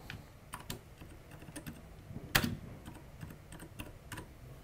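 Steady key clicks of someone typing on a self-built mechanical keyboard during final testing, quiet and close, with one sharper, louder clack near the middle.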